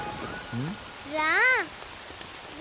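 Steady rain patters on surfaces as a soft, even wash, while brief voices rise above it for a moment.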